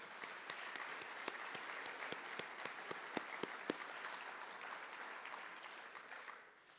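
A crowd at a scholarship awards night applauds steadily, with a few sharp, prominent claps standing out, before the clapping tapers off near the end.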